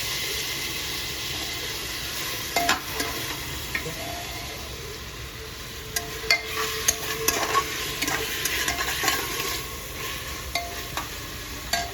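Tomatoes and milk sizzle in a hot tempering pan while biryani masala is cooked, a steady frying hiss broken by scattered pops and spoon scrapes, close and fairly loud with no talking.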